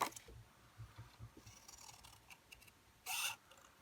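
Scissors snipping around a paper Santa cutout, quiet close crunching cuts spaced through, with one louder burst of paper rustle near the end and no talking.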